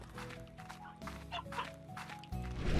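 Chickens cluck in the video game Slime Rancher, scattered bursts over steady background game music with no talking.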